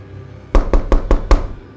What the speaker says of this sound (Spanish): Los golpes se hicieron más fuertes a medida que me acercaba a la puerta trasera.